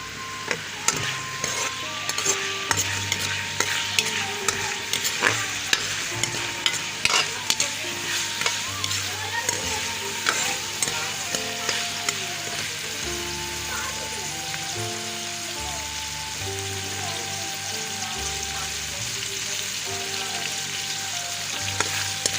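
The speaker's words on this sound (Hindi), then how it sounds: "ये प्याज फ्राई हो गया।" Chopped onions frying in hot oil in a pan for a chickpea lentil and potato curry, a continuous close sizzle broken by regular scraping and clinking stirs of a spoon against the pan.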